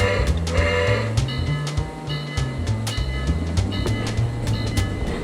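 A model train runs on a Lionel Christmas layout, with a rhythmic clickety-clack of wheels over rail joints and a low rumbling motor, close and steady.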